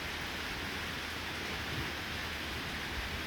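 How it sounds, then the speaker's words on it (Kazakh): Rain falls steadily outdoors on a summer mountain pasture, making a soft, even hiss with no talking. "Жауын жауып тұр."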